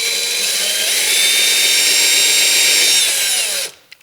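A power drill bores a pilot pin hole in plastic door sill trim for an Acura NSX, a loud, steady high-pitched whine held for several seconds before it abruptly stops, followed by a couple of faint clicks.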